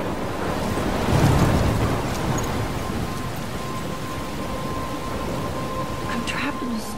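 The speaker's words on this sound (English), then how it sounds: "I'm trapped in a storm?" Thunderstorm in the video game Life Is Strange, a continuous roar of wind and rain with a low rumble swelling early on, a voice speaking over the storm.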